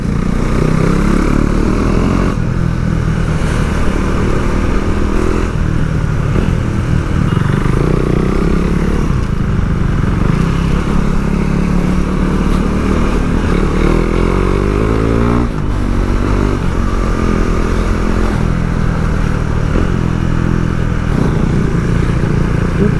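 A KTM Duke 390 motorcycle rides on city streets, its engine a loud continuous drone with rising and falling revs and gear changes, heavy wind rush throughout and no talk.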